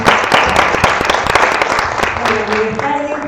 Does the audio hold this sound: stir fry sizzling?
no